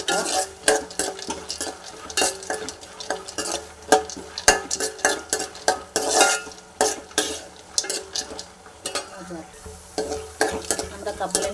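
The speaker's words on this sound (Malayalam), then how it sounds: "നമ്മുടെ കപ്പലണ്ടി ഇവിടെ മൂത്ത് വരുന്നുണ്ട്." Peanuts fry in hot ghee in a pan while being stirred, giving a close, loud sizzle broken by repeated scraping and clinking strokes of the spoon against the metal.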